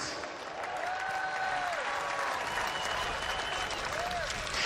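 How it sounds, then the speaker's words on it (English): Crowd applause for athletes at an HBCU football bowl event, a sustained wash of clapping with a few cheers and whistles, loud and continuous throughout. "Ladies and gentlemen, a round of applause again for these great athletes."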